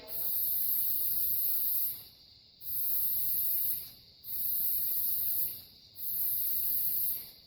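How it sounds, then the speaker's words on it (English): An aerosol can of spray paint hisses in four long bursts, each around two seconds, separated by short pauses and loud and close. "as soon as I started spraying this, you're going to want to spray it in an even spray."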